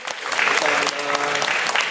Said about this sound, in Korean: 우리 찬양팀 큰 박수 한번 드립시다